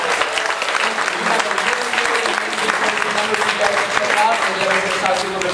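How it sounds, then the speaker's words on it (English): A crowd at a Kids Who Care Day event in the District claps steadily and densely for a group of children, the loud applause running throughout with a voice occasionally heard beneath it. "One more round of applause for the kids."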